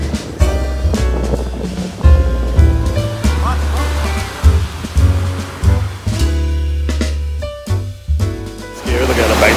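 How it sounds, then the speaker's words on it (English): Ocean surf at Puerto Vallarta, Mexico, washes and roars steadily with wind buffeting the microphone, loud and close, while people talk and music plays over the waves. "Yeah, the ocean."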